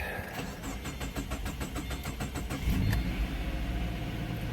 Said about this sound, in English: A little bit of a trouble starting up, but it does sound a lot smoother now.